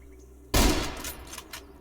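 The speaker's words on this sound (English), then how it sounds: "let's break out the sniper rifle" A sniper rifle fires in Zero Sievert, one sudden loud boom with a decaying rumble, followed by a couple of fainter sharp after-sounds.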